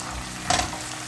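Shallots and garlic fry in a pan for paruppu urundai kuzhambu, a soft continuous sizzle with one brief louder scrape of stirring near the middle.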